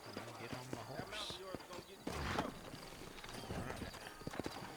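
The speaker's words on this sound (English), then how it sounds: "Get on my horse." Horse hooves clip-clop steadily at a walk in the western video game Red Dead Redemption, rhythmic and close, with in-game dialogue spoken over the hoofbeats.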